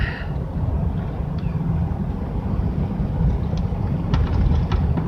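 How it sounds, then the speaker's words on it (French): Heavy trucks passing along a rural road, a loud, continuous low roar of engines and tires with brief higher rattles near the end and no voices. "Réveillé par les camions."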